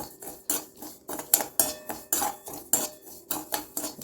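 Semolina and cardamom are roasted in a pan while a utensil scrapes and stirs in a steady rhythm, about two strokes a second, each a close, bright metallic scrape, with no voices.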